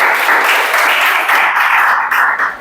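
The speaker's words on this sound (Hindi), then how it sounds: "चलिए ताली बजाइए भाई।" A class of students clapping hands together, a dense sustained burst of applause that stays loud for most of the stretch before thinning and fading at the end.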